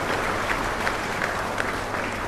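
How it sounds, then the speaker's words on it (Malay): An audience at Universiti Kebangsaan Malaysia applauds a guest speaker with brief, steady, moderately loud clapping that fills the hall. "apa kata kita berikan satu tepukan buat Ustaz Abdul Somad"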